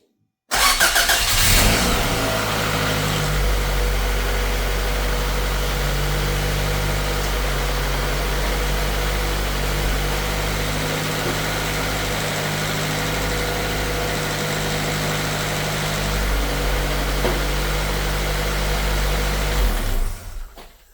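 A Honda Civic engine cranks and catches after a jump start, then settles into a steady, rumbling idle close by for about twenty seconds before cutting off.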